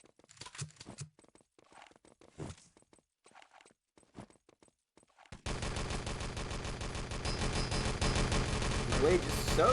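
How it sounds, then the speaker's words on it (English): An MP40 submachine gun fires in a 3v3 LAN shooter match. After a few scattered sounds and brief speech, a dense, continuous burst of rapid gunfire starts and stays loud and close for the remaining four seconds. "Every time they try to hug that wall, he just lasers them down with that MP40"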